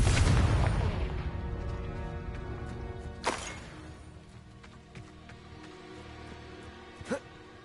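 A fire spell explosion in a wizard video game opens with a loud booming blast that decays into crackling rumble, followed by a couple of smaller pops and whooshes, with a voice speaking at times.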